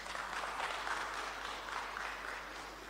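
At a church entrepreneurship conference, an audience in a hall claps in a sustained round of applause that fades slightly toward the end.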